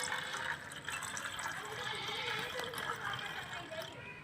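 Unboiled packet milk pours into a mixture for homemade bread pizza, a steady close liquid trickle running through the clip without a break.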